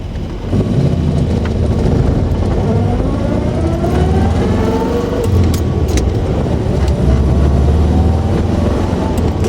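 A 1953 Jowett Javelin classic car drives on a short brake-test run, its engine a steady loud interior drone with rising and falling rev tones as it accelerates through the gears, continuous throughout without talk.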